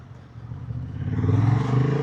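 A 2026 Honda Hornet 750 with E-clutch pulls away from near the microphone, its engine note rising steadily as it builds revs, loud and without speech.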